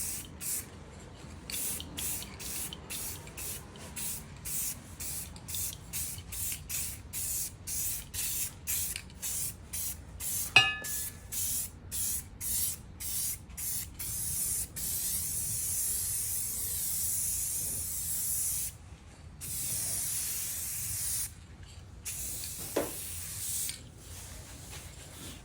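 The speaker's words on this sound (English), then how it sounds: "You can pick whatever clear coat you want and just spray it on lightly." Repeated short bursts of aerosol clear coat spray onto Chevy/GMC wheels, hissing in quick rhythmic pulses, then longer sustained sprays close by, with a couple of faint clicks.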